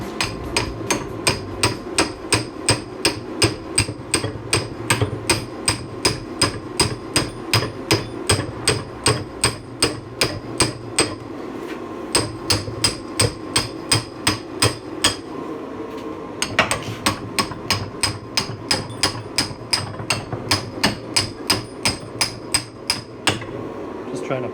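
Steady, rapid metal-on-metal strikes as a hammer drives a punch to knock leftover rust out of a post vise during an extreme restoration teardown. The blows ring loud and close throughout, with only brief pauses.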